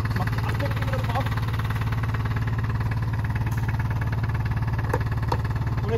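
A 2018 Dué Premium microcar engine idles with a steady rhythmic throb, close and constant throughout, with a faint voice in the background.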